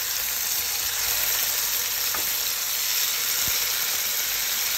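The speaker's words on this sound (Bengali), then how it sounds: "গ্রিন চিকেনটা ভাজা হয়ে গিয়েছে, সাথে বরবটিটাও ভাজা হয়ে গিয়েছে।" Green chicken frying in oil in a frying pan with long beans, giving a loud, continuous hiss and sizzle throughout, with a couple of faint clicks and no voices.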